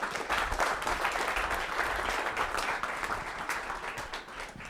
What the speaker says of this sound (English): I want to give a big round of applause for our expert panelists here.